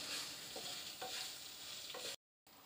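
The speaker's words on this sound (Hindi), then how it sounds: "मैं थोड़ा सा हिला दूँ" Green chillies stirred in a pan for achari hari mirch, a spoon scraping through them with a soft steady sizzle in a few distinct strokes, close and fairly quiet, ending in a brief cut of silence.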